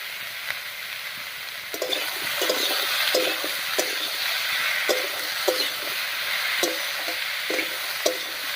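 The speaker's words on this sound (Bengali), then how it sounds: "এবার একটুখানি ভাজা ভাজা মতো করে নেব" Pumpkin pieces frying in a pan with salt and turmeric make a continuous close sizzle. Repeated scraping strokes of a spatula stirring the pan punctuate it, with no talking.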